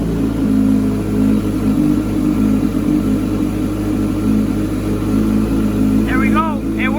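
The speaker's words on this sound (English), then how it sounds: "Now I need to actually start the bike." A 2019 Honda CBR1000RR engine running with a steady, loud low idle rumble close by, steady throughout with a brief burst of higher chirping near the end.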